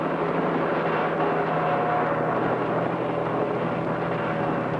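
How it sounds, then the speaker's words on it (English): A small helicopter flies low over a river canyon, its engine and rotor making a steady, continuous drone with a faint tonal hum and no breaks. "With Jim Masters aboard, the chopper heads south, downstream over the Devil's Race."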